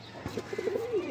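A single pigeon at a pigeon sale gives a short, close, rolling coo that rises and wavers, alone and clear over quiet background.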